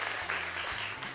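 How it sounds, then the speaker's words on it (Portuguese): Studio audience applause on a Brazilian television variety show, a brief, fairly faint burst of dense clapping. "vocês estão vendo aí, olha, aplausos"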